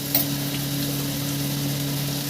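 Turmeric and Kashmiri chili powder sizzle in hot oil, a steady close crackling hiss with a faint tick near the start, continuing evenly and alone.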